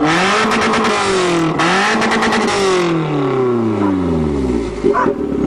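Revving from a 1992 Toyota Corolla with a modified exhaust: loud, close throttle bursts climb twice to a high scream, then the revs drop away and slowly wind down to idle.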